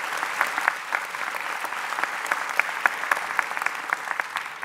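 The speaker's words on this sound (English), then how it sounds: "Give yourselves a hand, absolutely." At a fall 2018 Robinson graduation ceremony the graduates applaud themselves, producing dense, sustained clapping from a large group, steady and fairly loud throughout.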